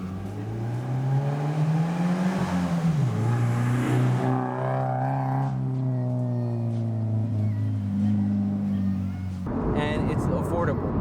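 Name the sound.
car revving with cheap eBay aftermarket exhaust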